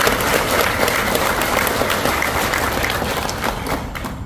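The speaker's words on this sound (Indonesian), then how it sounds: "Saya boleh tepuk tangan di sini." Audience applause at a televised political debate, a dense, steady wash of clapping from a large crowd that holds loud throughout and tapers slightly near the end, with no voices over it.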